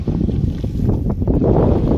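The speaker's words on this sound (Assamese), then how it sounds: "কি বতাহ মাৰিছে" Strong wind gusts roar and buffet the microphone outdoors near Kaziranga National Park, with a steady low rumble throughout.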